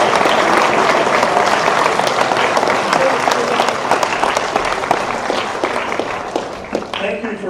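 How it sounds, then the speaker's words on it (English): An audience at the opening ceremony of the FIRST Tech Challenge 2023 Australian Championship bursts into sustained applause, with dense clapping and some crowd noise that stays loud throughout and eases slightly toward the end. "Please give them a round of applause."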